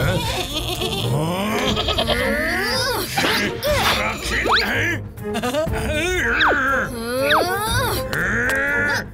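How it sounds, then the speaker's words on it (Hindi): Cartoon goat bleating in a Hindi animated children's show, several wavering, wailing bleats rising and falling over busy music and other sound effects, loud and close throughout. "ये मामूली सी बकरी है, इसे और तंग नहीं करेंगे।"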